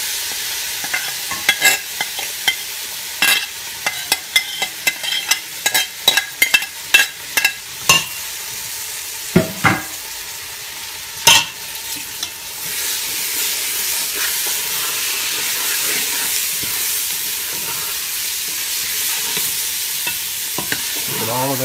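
Vegetables being stirred in a hot pot for seafood gumbo: a run of sharp scraping stirs over steady sizzle for the first half, then a continuous hissing fry with only occasional stirs.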